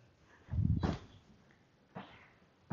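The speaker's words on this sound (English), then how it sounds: "Look at the puppies." Puppies make a short whimpering burst close by, followed by fainter squeaks and a brief yelp, with quiet room tone between.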